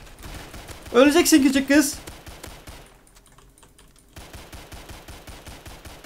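Gunfire from the Roblox game Silent Assassin crackles as a rapid stream of small, clicky shots that runs through nearly the whole stretch, with a short pause near the middle, while a voice briefly speaks over it.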